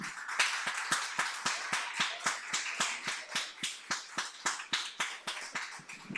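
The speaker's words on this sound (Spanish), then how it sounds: "Si vas a aplaudirle, dale un aplauso al Señor fuerte." A church congregation claps in unison with steady, even beats, roughly four per second, continuing for several seconds at moderate volume with no talking.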